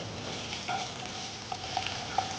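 Small and large onions sautéing lightly in a pan with fennel seeds and dried red chillies, a continuous close sizzle with faint stirring scrapes.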